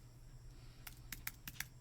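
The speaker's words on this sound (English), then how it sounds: "Now I'm going to type in" A few sharp keyboard keystrokes tap out irregularly over a low steady hum, close and fairly quiet, while someone enters text with a font tool.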